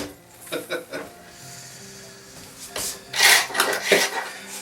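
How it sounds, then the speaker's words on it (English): Old paint is scraped off a 1950s school desk, with a few short rasping scrapes at first and then a louder, more sustained grinding scrape near the end. "More scraping."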